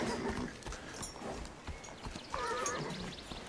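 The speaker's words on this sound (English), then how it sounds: "I'm here to see Jimmy start a 2-year-old colt called Shiver" A two-year-old colt moves about, hooves clip-clopping on the ground while he whinnies and neighs, close and fairly quiet with no talking.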